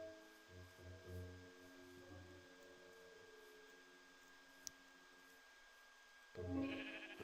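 Sheep in Minecraft bleat several times in quick succession, short nasal baas near the start, then quiet background with a faint tick and one more bleat near the end.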